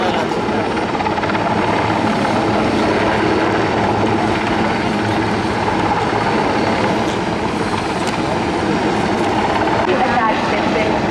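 A military helicopter flies at a navy day rehearsal with commandos hanging below it, its loud continuous rotor and engine roar dominating throughout with a commentator's voice faintly under it.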